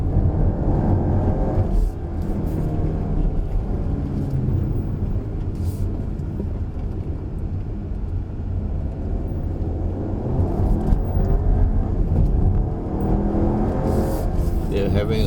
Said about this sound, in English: we have enough power and drive it up the hill. I'm putting it on manual.